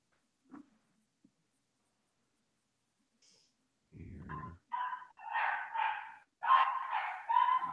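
A dog barks in a quiet room, a few brief muffled sounds followed by a run of sharp, fairly close barks that grow louder toward the end.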